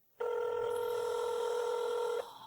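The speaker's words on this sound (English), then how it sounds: "she put them into the slot on the phone, and then she dialed her mother's phone number" Payphone keypad tones as a number is dialed: a single steady dual-tone beep held about two seconds, loud and clean with no talking over it.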